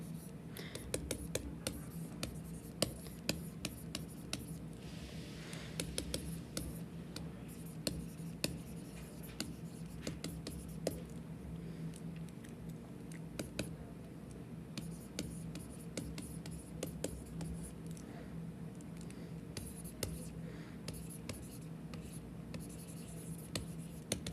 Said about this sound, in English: So let's just write that as a little side note.